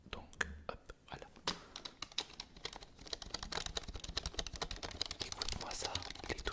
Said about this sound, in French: Celui-là, c'est un ancien clavier